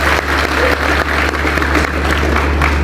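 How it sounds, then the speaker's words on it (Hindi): An audience at a commerce seminar in Peshawar, Pakistan, applauds with loud, steady, continuous clapping from a large crowd, over a low electrical hum from the hall's sound system. "इनके लिए तालियां होनी चाहिए।"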